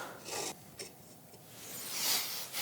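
A handheld stud finder slides across a drywall wall beside an electrical outlet during a ceiling light installation, making quiet, soft rubbing scrapes in a few short passes.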